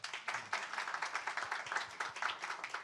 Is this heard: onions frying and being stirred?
no